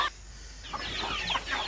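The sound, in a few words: chickens clucking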